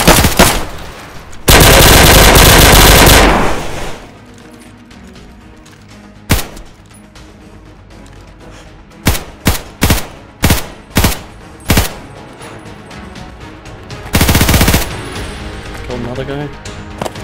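Bursts of P90 submachine gun fire in the survival game DayZ: long loud sustained volleys near the start and end, with a string of short separated bursts in between, all under a man's chatter.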